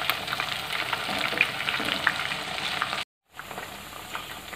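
Chicken pieces frying in hot oil until crispy, a dense continuous crackling sizzle close by, cut off for a moment near the end before the sizzling resumes.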